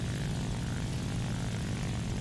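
Steady, loud drone of a propeller fighter plane's piston engine in the War Thunder video game, a continuous broadband roar with heavy low rumble and no voices.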